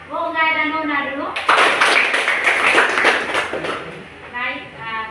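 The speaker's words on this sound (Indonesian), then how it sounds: "Baik, kita tepuk tangan buat Olga dan Nona dulu." A class claps hands in a classroom, a dense burst of clapping lasting about three seconds, with a teacher talking just before and after it.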